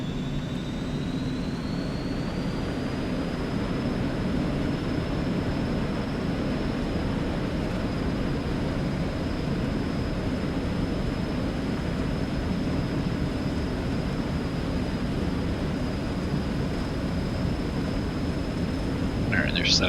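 An Eclipse 550 business jet in the X-Plane 11 flight simulator rolls down the runway for takeoff, a steady engine whine and rumble with a rising high tone, continuous and even.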